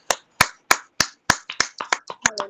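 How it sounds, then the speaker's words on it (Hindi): A women's fellowship congregation at a Saturday prayer service claps in unison, about a dozen sharp, loud hand claps at a steady beat that quickens and roughens toward the end. "जोरदार ताली लगाएं।"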